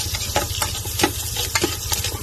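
Onion cooking in a pan for the Filipino blood stew dinuguan, a soft sizzle with light rhythmic stirring and scraping, close and fairly quiet.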